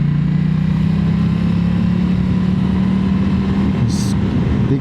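A big twin-cylinder Moto Guzzi Stelvio motorcycle drones steadily on the move, its low engine note loud and close with heavy wind rush, holding constant before a brief higher-pitched blip near the end.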